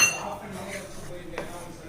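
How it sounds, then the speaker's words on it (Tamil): A spoon scrapes and clinks against a pan while gram flour roasts in ghee, giving quick metallic taps over a soft background, with a voice faintly present. "கட்டிகள் படாமல் நல்லா கை விடாமல் கிளறி கொடுக்கணுங்க"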